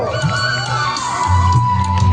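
A large crowd cheers and shouts at a big outdoor rally honoring Sant Sevalal Maharaj's birth anniversary, a dense, steady roar of voices with whoops rising near the end.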